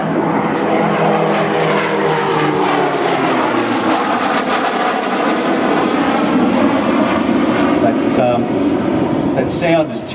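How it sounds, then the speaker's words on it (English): A Gloster Meteor jet fighter passing over an airfield at Temora, New South Wales, its engines giving a loud, sustained roar with a whistling Aeolian tone that rises and falls over about ten seconds. "that sound is technically called an Aeolian tone,"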